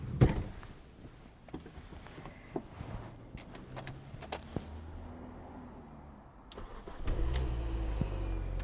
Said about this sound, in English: let's see if we can start the car with the other key